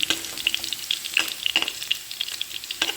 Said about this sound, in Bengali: এই তেলের মধ্যে সামান্য একটু দিয়ে দেবো হিং ফোড়ন